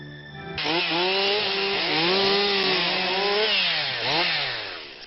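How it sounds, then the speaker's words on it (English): A chainsaw runs at a steady roar while it cuts through wood in a forest. The engine pitch dips and rises as the blade bites, loud and close for several seconds. "It's great to see chainsaws being used constructively for once"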